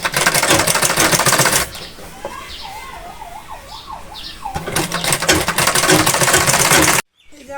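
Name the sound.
sewing machine stitching petticoat fabric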